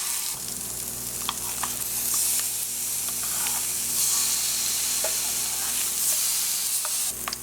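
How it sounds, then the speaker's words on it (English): Skin-on fish sears skin-side down in a hot pan, giving a steady loud broadband sizzle that holds throughout, close and even, with occasional small pops and crackles. "And all we're going to be doing is just pan-searing this"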